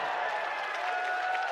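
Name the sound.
wrestling crowd applauding and cheering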